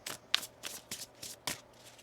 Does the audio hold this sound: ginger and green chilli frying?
no